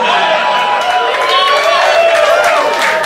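A comedy club audience applauding steadily throughout, a dense and continuous wash of clapping with some crowd noise mixed in.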